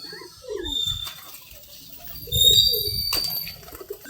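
Pigeons, including crested pigeons, landing during a flight-training session: soft low cooing calls and a flutter of wings come in two bursts, with faint chirps and rustling in an otherwise quiet outdoor setting.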